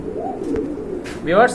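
Indian Mumbai pigeons, a quality red-coloured pair, coo in short low throaty bursts close by, with a brighter rising call near the end over a steady background murmur.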